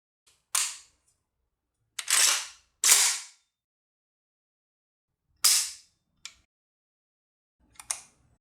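A 2014 Romanian WASR-10 rifle being cleared and function checked gives sharp, close metallic clacks and snaps of the action and trigger, about six crisp bursts spaced out across the stretch with silence between them.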